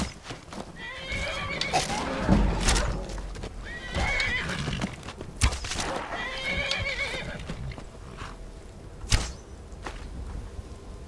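A horse in the Skyrim video game whinnies repeatedly over a steady clip-clop of hooves, with sharp impact thuds scattered throughout, all close and fairly loud.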